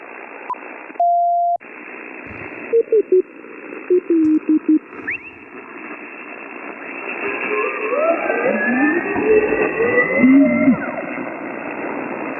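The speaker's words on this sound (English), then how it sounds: "It sounds like FT8. Lots of noise. Almost an S9 of noise." Noisy HF ham radio band with a strong hiss floor, short steady tones and overlapping warbling digital FT8 tones building under heavy static, with no talk.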